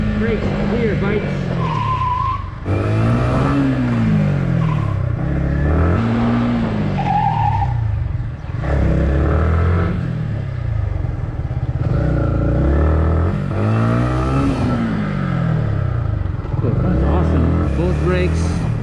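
A Yamaha MT-15 Dark Warrior motorcycle brakes hard again and again, its tyre skidding and squealing in repeated bursts over the engine's rising and falling drone, with a person talking throughout.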